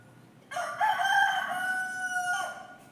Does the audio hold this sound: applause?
no